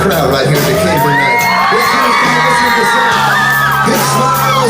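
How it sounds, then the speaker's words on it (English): A crowd at an evening outdoor Christian music concert in Decatur, Alabama cheers, whoops and shouts loudly and continuously, with amplified music and sustained voices underneath. "Now, George, we got a crowd right here in Decatur tonight."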